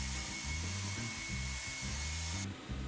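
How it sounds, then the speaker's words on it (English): A hair dryer blows hot air steadily over a wet RA4 colour photographic print mounted on a wall, a loud continuous whooshing drone with a thin high whine that cuts off near the end. "Dry it with the hot air."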